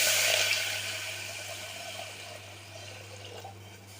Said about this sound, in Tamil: இதோட தண்ணியை ஆட் பண்ணிக்கலாம்.